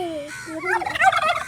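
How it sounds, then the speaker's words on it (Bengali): Unidentified chicken-like fowl gobbling nearby outdoors, a short burst of rapid wavering gobbles that gets louder toward the end, no talk. "মুরগিগুলোর সাথে দেখা, এগুলো তো বুঝতে পারছি না কি মুরগি।"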